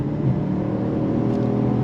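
A 2024 Jaguar XF sedan's engine pulls hard under full throttle toward 6,500 RPM, a steady, loud, droning engine roar heard from inside the car with no talk over it.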